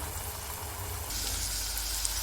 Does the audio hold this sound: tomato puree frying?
yes